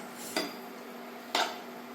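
Two sharp metallic scrapes of a spoon against a pan, about a second apart, as chilli chicken with sauce and a little water is stirred, over a low steady background hum.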